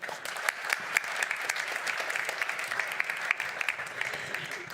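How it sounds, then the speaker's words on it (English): An audience at a handball championship closing press conference claps steadily, with sharp individual claps standing out from the dense, even applause throughout. "Could I please have one more applause for them?"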